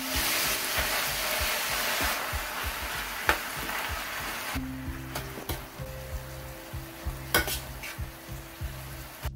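Pork belly and garlic fry in a pan, a steady sizzle broken by repeated scraping stirs and a few sharp utensil clinks, close and moderately loud with no talking.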